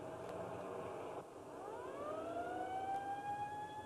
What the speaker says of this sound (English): the ambulance heading out now